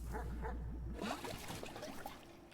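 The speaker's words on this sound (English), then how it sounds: "I heard a dog." A dog barks in the video game Animal Well, a few short yips and woofs at close range over a steady low game hum.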